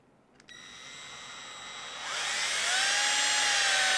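A small powered driver spins up on a screw being set into the rear link of a Scale RC crawler (SCX10 II), a thin whine that rises after a click and then holds steady and loud.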